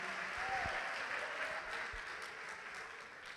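Church congregation applauding in worship, a steady broadband wash of clapping at moderate distance with faint voices mixed in.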